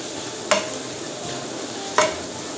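Food sizzles steadily in a hot pan while a utensil scrapes through it twice, brief close strokes over the constant frying hiss.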